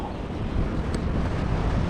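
Steady wind buffets the microphone while riding a ROVORON R7 Pro electric scooter, a continuous loud rumbling roar with no talk.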